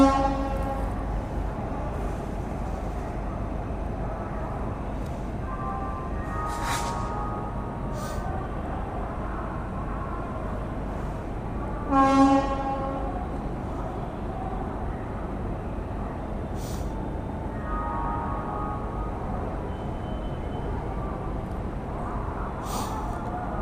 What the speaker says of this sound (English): Howrah Mumbai Duronto Express is departing on time.